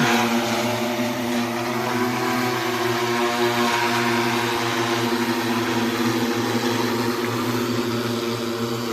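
An agricultural spraying drone flies low over a farm field, its rotors giving a loud, steady droning whine with a constant pitch that holds evenly throughout, close by and with no voices.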